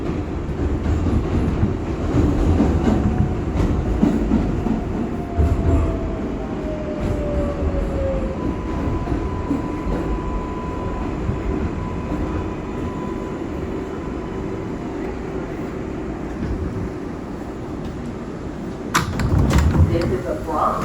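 An R142A subway train runs on the IRT 6 line with a steady, loud rumble of wheels and motors throughout, brief squealing tones in the middle and a louder clatter near the end, while station announcements play over it.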